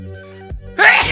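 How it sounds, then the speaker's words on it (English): A person sneezes up close and loudly, with a drawn-out, voiced build-up before the sharp, breathy burst at the end. "Oh my god, I'm gonna sneeze."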